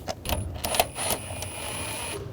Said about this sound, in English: Using a 7mm socket, I'm just going to loosen this up.